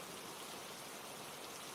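Steady rain falls without pause, a dense even hiss of drops spread across the whole clip, with no voices over it.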